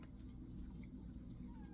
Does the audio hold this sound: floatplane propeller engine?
no